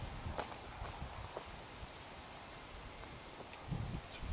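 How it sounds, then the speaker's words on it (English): Soft footsteps crunch and rustle across the woodland floor, faint and somewhat distant, scattered irregularly over a quiet outdoor background with a slightly louder pair of steps near the end. "It's really clear footsteps again round here."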